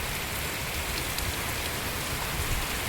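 Heavy rain pours steadily in a rural area near a fish pond, a dense, even hiss of drops on surfaces with no other sounds standing out.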